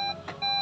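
Warning chime inside a Toyota Vellfire ZG Premium S car, two bright electronic tone bursts separated by a short gap, close and fairly loud with no talking.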